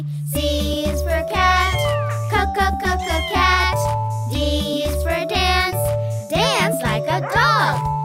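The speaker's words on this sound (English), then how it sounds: "C is for cat, cat." A cartoon cat meows several times in a children's alphabet show, bright drawn-out cries mixed with a child's sung speech and light jingling music.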